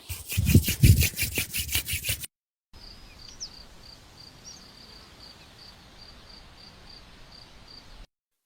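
A brisk, rhythmic rubbing of palms comes first, loud and close, then gives way to quiet background with faint chirping.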